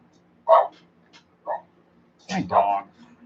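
A dog barks nearby in a few short, loud bursts separated by silence, the last ones coming in a quick double.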